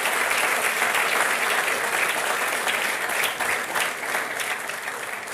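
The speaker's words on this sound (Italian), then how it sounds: "Vi pregherei di dargli un applauso" Sustained, dense applause from a large audience at a business forum in Cernobbio, steady and full for the whole stretch, fading slightly toward the end.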